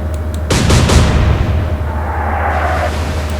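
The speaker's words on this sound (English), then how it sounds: "if we get a really good broadside away, maybe that'll sink them outright" A naval broadside from a British warship in the Atlantic Fleet naval battle game, heard as a cluster of rapid heavy gun reports that merge into a roaring boom and then fade into a long rumbling wash over constant low ambience.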